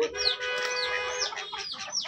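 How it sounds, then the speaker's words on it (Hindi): Hens let out of their coop cluck and squawk repeatedly at close range, a busy overlapping run of calls with no talk over them. "तो हम चिक्स वाली अपनी जो मुर्गी थी उसको भी खोल दिया"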